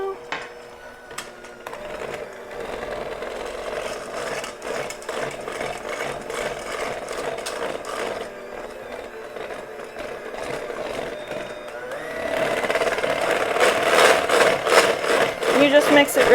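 Frosting being mixed with vanilla and powdered sugar for an Easter bunny cake makes a steady mechanical whirring that grows louder and harsher toward the end.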